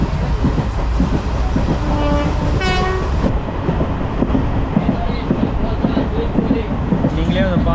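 A crowded Jan Shatabdi superfast express train rolls through Mayiladuthurai station with a steady, close rumble of wheels and wagons, and a brief, loud horn blast sounds about midway.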